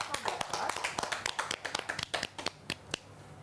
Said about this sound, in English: But you can still clap for them.